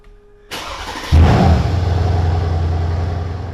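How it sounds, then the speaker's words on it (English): A 2015 Mercedes-Benz C63 AMG S engine, over 500 horsepower, cranks and fires up with a loud roar, then settles into a deep, steady idle close by. "That's the sound of a 2015 Mercedes-Benz C63 AMG S, a luxury sports car equipped with 500-plus horsepower."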